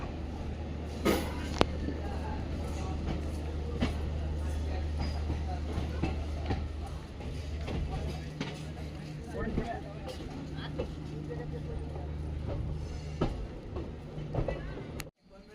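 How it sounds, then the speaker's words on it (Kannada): A passenger train pulls out of Ashokapura railway station on the Chamarajanagara–Mysore line, a steady low rumble with sharp wheel clicks and rattles throughout, heard from inside the carriage. "ನಮ್ಮ ರೈಲೀಗ ಅಶೋಕಪುರ ರೈಲು ನಿಲ್ದಾಣದಿಂದ ಹೊರಟಿದೆ"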